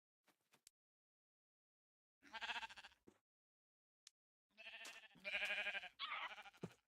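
Sheep in the Minecraft game bleat in several short, wavering calls, one brief and then a cluster of three close together, each clear and alone against silence.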